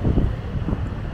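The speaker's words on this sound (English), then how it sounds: "It's a little windy out here." Steady wind buffeting a microphone at Myrtle Beach overlooking the ocean and piers, a low rumbling roar with gusty swells, no voices.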